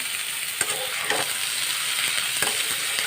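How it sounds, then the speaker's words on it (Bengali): Loud, close sizzling of ivy gourd frying in a pan, punctuated by a few sharp scrapes and clinks of stirring. "তাহলে একটু ভেজে নিয়ে আর আপনাদের কাছে আসছি"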